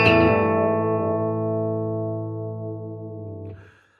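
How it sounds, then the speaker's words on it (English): A single clean chord rings out on a 1954 Fender Telecaster electric guitar. It is struck loud and sustains smoothly for about three and a half seconds, then is muted with a faint scrape and fades out. "This is just a clean sound on it"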